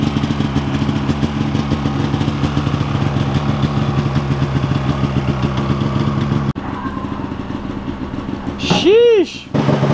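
A GGV snowmobile engine idles with a steady mid-range drone, then opens up in a brief loud rev near the end, with voices heard around it.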